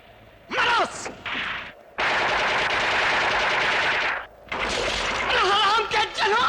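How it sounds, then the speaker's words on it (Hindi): Sustained burst of rapid gunfire in a Hindi film action scene, loud and continuous for a couple of seconds, bracketed by shouting voices and groans before and after. "20 के 20 एक आदमी पे गोली चलाते हो"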